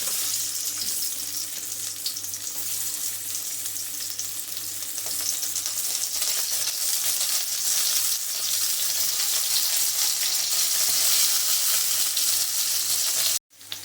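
Stuffed brinjals fry in oil over a low flame, giving a steady, even sizzle that holds at a constant level throughout and cuts off abruptly just before the end.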